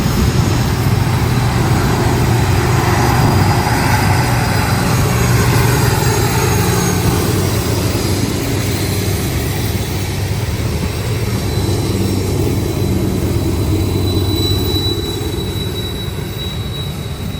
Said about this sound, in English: UP 2711 heads up a Portland to North Platte freight